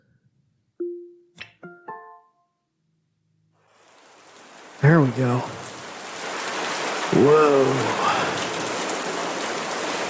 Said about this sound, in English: Alexa, rain sounds.